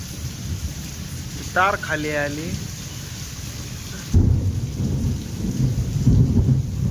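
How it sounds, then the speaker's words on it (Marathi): A storm with heavy rain and thunder: steady rain hiss throughout, a person speaks briefly, then a deep, loud thunder rumble rolls in and continues under the downpour. "विजा कडकडत्यात."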